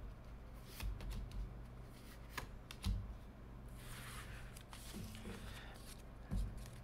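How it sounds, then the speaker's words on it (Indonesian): Tarot cards are drawn and handled close up, with soft papery slides, flicks and light taps scattered over a quiet room, a few brief thumps among them and no talking. "Oke, Tarotku ambil 3 buah kartu."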